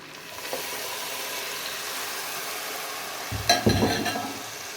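Chicken and onion cook in a pot with added stock, a steady soft sizzle and simmer hiss, with louder stirring and pot clatter near the end.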